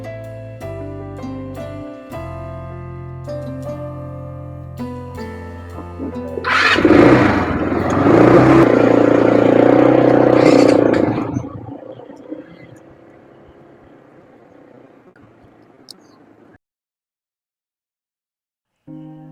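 Motorcycles start up and rev loudly, swelling to a close, roaring peak before pulling away and fading into the distance, with people talking nearby beforehand.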